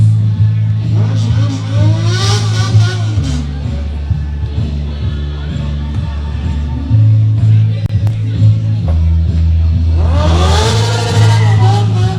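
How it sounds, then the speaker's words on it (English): A motorcycle with a powerful engine revs twice near a baseball ballpark, each rev a loud rising whine that swells and falls away, with steady engine rumble and crowd-like background noise between. "Someone has a motorcycle with a really nifty engine in it."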